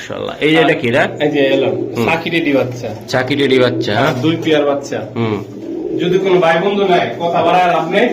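At a pigeon market, pigeons coo softly in the background, nearly buried beneath steady, close-up talking.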